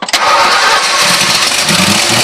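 A 1994 Ford F150 pickup truck engine cranks briefly and catches, settling into a loud, steady running rumble close by for the rest of the moment, with no voices over it.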